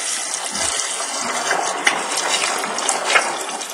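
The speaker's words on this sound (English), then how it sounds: "We add water to the top of the ice cubes." Water is poured from above onto ice cubes partly filling a container, making a steady, fairly loud gushing splash with small clinks and bumps throughout.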